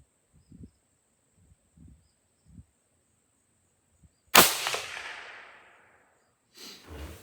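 A single sharp, loud rifle shot fired while zeroing a scope at the range, a crisp crack with a long decaying echo, preceded by a few soft handling clicks and followed by a dull thump.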